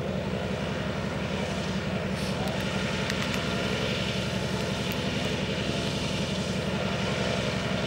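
An Antonov An-2 biplane's single 1015-horsepower radial engine and 3.6-metre propeller roar loudly and steadily during a short takeoff, a constant throbbing drone that stays strong throughout.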